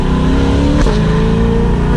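A Chevrolet C8 Corvette Stingray accelerates hard, its engine loud and close as the revs climb steadily, with one brief upshift break before the rising drone picks up again.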